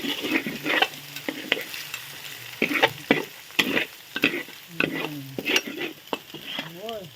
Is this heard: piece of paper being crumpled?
no